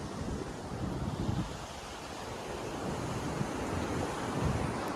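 Sea waves wash onto a beach in a steady, moderately quiet surf roar mixed with wind noise, no voices present.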